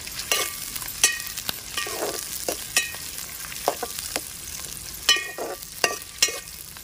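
Chopped onion and green chillies sizzle in a pan for a mutton and taro curry, a steady frying hiss broken by repeated scraping stirs, close and fairly soft.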